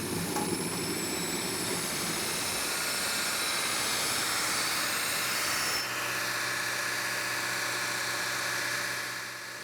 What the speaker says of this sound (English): I'll go over to the grinder, clean off some of that scale so we can see the shininess